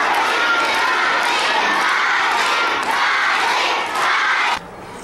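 A group of children cheering and shouting encouragement at someone, a loud, continuous burst of excited young voices that cuts off abruptly near the end.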